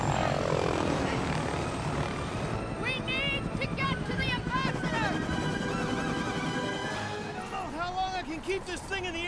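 Helicopter in the video game Lego The Incredibles, its steady rotor and engine drone running loud and continuous beneath game music and excited character dialogue.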